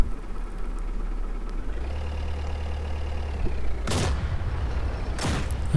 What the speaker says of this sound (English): I can hear them shooting.